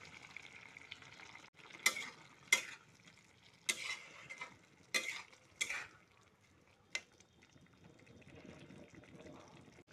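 Potatoes frying in a pan, a faint low sizzle punctuated by several sharp, close scraping stirs, then settling into quieter frying.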